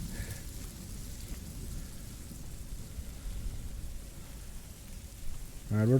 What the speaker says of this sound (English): Fucking rain.